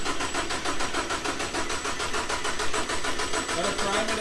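Starter cranking on a Toyota Celica with a direct-injected engine during a pro-touring build, a steady rapid churning that runs the whole time without clearly catching, with a faint high whine above it.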